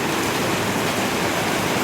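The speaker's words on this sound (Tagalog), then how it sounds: "Bumuhos yung malakas na ulan." Heavy rain pours down steadily in the early morning, a dense, continuous hiss that stays loud and unbroken throughout with no voices over it.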